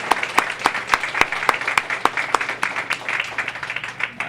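An audience gives the mayor a round of applause at a U.S. Department of Housing and Urban Development event, with a few sharp close claps standing out over a steady wash of crowd clapping.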